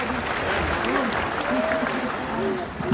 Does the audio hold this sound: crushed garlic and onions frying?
no